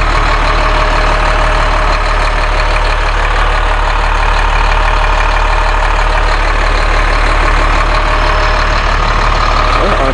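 A Caterpillar C7 7.2-liter turbo diesel idles steadily in a 2006 Bluebird All American school bus, a loud, close, unbroken heavy rumble that fills the whole stretch.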